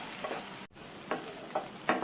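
Soaked sago pearls stirred in a pan over a medium flame, a soft steady sizzle with a few gentle scraping strokes of the spoon, close and fairly quiet.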